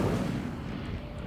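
A fiery Incendio spell cast in Hogwarts Legacy, heard as a faint, low rumbling whoosh of flame that swells and holds briefly without any voice over it.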